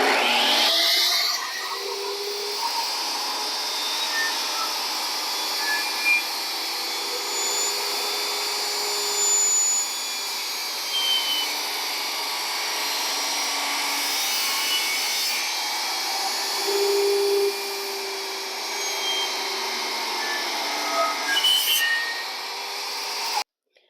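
A table saw whines loudly and steadily as it cuts through a block of homemade soap into bars, a sustained close high-pitched motor drone with slight shifts in pitch during the cut, ending abruptly.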